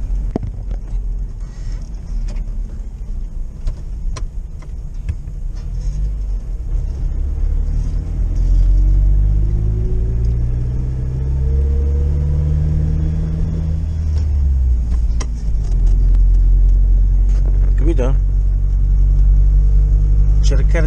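A UAZ off-road vehicle's engine drones steadily while driving, a loud low rumble that rises and falls in pitch as it pulls through the gears, with some rattling and a brief engine surge near the end.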